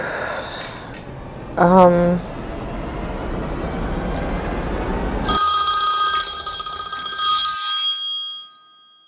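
A telephone rings in a steady electronic warble that rises to a bright, prominent peal partway through, with people talking in the room.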